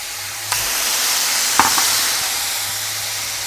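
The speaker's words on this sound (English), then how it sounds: "Ooh, we got that sizzle." Beef strips hit a hot pan for fajita quesadillas and a broad, steady sizzle fills the kitchen, with a couple of sharp clinks from a utensil against the pan.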